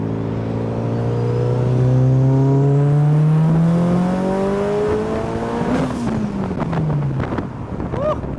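A tuned Mitsubishi Evo engine revs hard under acceleration, loud and close, its pitch climbing steadily for several seconds before a gear change drops it and it pulls again, with wind rushing past.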